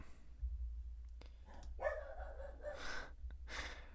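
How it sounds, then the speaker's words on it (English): A dog barks indoors in the background, a few breathy, muffled barks and yips spread over several seconds against a quiet low hum. "There goes my dog."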